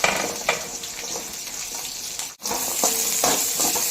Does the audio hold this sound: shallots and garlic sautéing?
yes